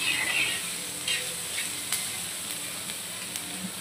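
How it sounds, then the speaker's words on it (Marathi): Chopped onion frying in a little oil on high flame for a fish curry masala, a steady close hiss with soft crackles and a few light clicks. "अशा पद्धतीने छान आपण आधी कांदा भाजून घ्यायचा आहे।"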